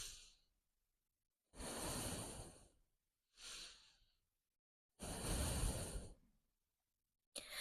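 Slow, deep breaths during a gentle yoga stretch, four long airy inhales and exhales separated by pauses of silence, close and clear with no talking.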